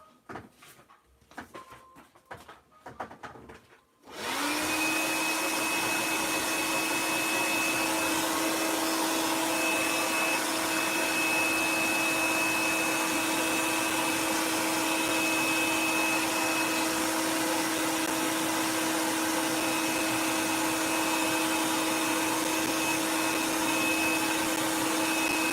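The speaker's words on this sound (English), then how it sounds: "get the hairdryer again." A hairdryer blowing steadily and loudly close by to dry neon paint coats, a constant whirring roar with a faint high whine that starts after a few seconds of quieter handling noise and runs on without a break.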